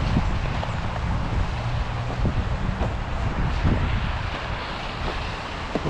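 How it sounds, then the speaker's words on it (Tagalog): Steady wind blows across an open park in Canada, a continuous broadband rush that buffets the microphone with low rumbling gusts throughout and carries no speech. "Ayun, mahangin."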